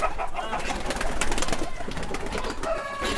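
Pigeons coo continuously in a busy, noisy setting on a large fancy chicken farm in Pakistan, with other birds calling and a constant background hum throughout.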